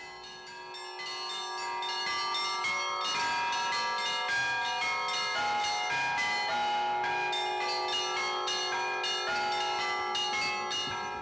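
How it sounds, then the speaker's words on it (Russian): Church bells of the Holy Dormition monastery, 28 bells across three belfries, peal together in a rich, overlapping clangor, with rapid repeated strikes and long ringing tones building in and continuing steadily without talk. "в Свято-Успенском монастыре совершается служба уже три звонницы, 28 колоколов"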